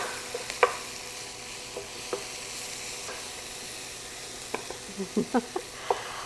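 Onions sizzle softly in a skillet, seasoned with black pepper, with scattered light scrapes and taps of a utensil stirring them, clustering near the end.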